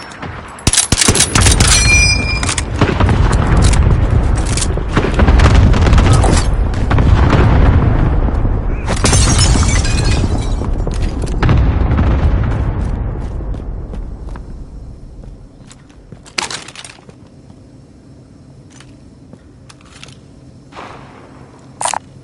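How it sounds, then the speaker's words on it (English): A video game cluster strike sets off a long, loud barrage of overlapping explosions with metallic clangs and debris, rumbling heavily for about fifteen seconds before thinning into scattered late blasts and quiet. "Cluster strike is active."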